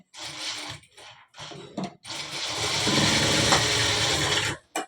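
Sewing machine stitching a full-sleeve shirt, running in short bursts with brief pauses and then a longer steady run, close and moderately loud with no talking.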